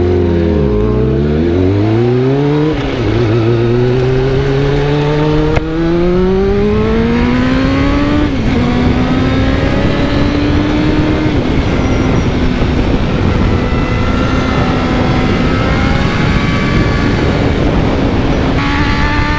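A motorcycle laps the Jurby Motordrome track, its loud engine note rising and falling through gear changes and sustained high revs, heard continuously from onboard.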